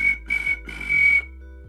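A human outward tooth whistle plays a sustained high tone in three loud, close bursts, backed by a low hummed chest-bass note that steps down in pitch, with no speech.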